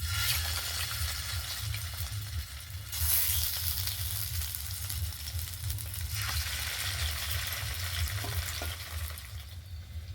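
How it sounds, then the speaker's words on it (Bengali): Jaggery parathas fry in a pan with a loud, dense, continuous sizzle and crackle. A low rumble from the stove runs throughout, and there is no talk. "একইভাবে বাকি পরোটাগুলো ভেজে নেব।"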